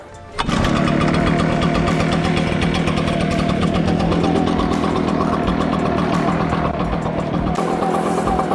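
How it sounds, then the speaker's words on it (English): A gas-powered Echo 755st backpack leaf blower starts up and runs, a loud, steady engine roar with constant high airflow noise sustained throughout, close to the listener and without speech. "I have the gas power blower on now"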